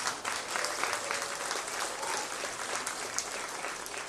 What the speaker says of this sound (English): Let's go ahead and give all these kids a big round of applause.